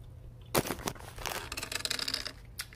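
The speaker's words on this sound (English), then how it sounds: "I love the crunch of the seeds." Close-up chewing of butternut squash soup topped with crunchy seeds, with a rapid series of sharp, crisp crunches and clicks near the mouth after a brief quiet start.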